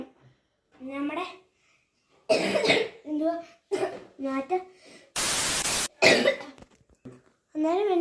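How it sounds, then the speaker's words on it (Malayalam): A single harsh cough bursts out for under a second, loud and close, between stretches of a person talking indoors in a house. "എനിക്ക് ഭയങ്കര ചുമയാണ്"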